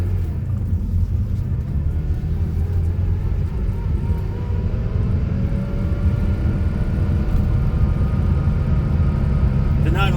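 A 400,000-mile Porsche 911SC engine drones as a low, steady rumble while the car is driven, heard from inside the cabin. A voice talks over it the whole time.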